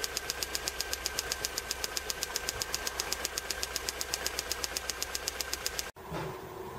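A 1996 Toyota Town Ace engine idles close by with a fast, even ticking knock riding on a steady low hum, holding the same rhythm for about six seconds before cutting out abruptly into quieter handling noise.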